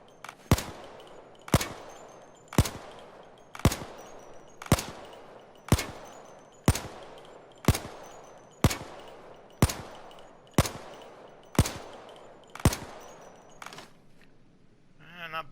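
HK MP5 Compact submachine gun in Payday 2 firing about thirteen single semi-automatic shots, spaced roughly a second apart. Each shot is loud and sharp with a short decaying tail, with no voices.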